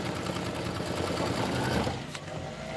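A sewing machine runs a quick placement stitch for a tree trunk appliqué, a steady fast mechanical whirring chatter close by that eases off near the end, with no talk.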